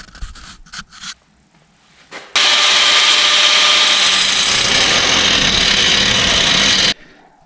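A power tool cuts out metal plates for fabricating a car chassis, a loud, steady, harsh grinding whine running for several seconds after a few short clanks and bumps, then stopping abruptly.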